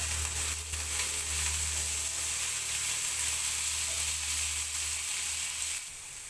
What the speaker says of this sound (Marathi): आता शेंगदाणं टाकून घेतलं मस्तपैकी आता चांगलं आता भाजून घेते